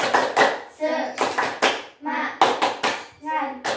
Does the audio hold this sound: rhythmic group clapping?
yes